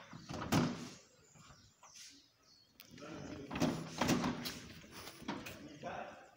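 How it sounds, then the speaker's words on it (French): A folding aluminium sliding door, shown alongside a French door, is opened and closed, giving several clattering rolls and knocks that come in bursts, with quieter stretches of room noise between them. "Porte coulissante en même temps à la porte française."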